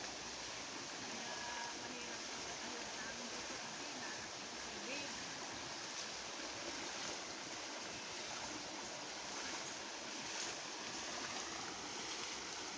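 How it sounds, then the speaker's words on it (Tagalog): Floodwater rushes during Typhoon Carina as a faint, steady, broadband wash of moving water that holds even throughout, with no distinct splashes. "Ang laki ng baha."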